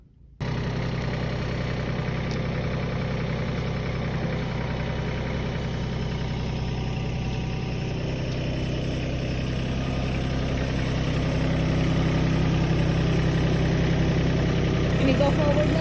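An old farm tractor's engine idles steadily nearby, a loud, continuous low rumble with a faint knocking texture that grows slightly heavier toward the end.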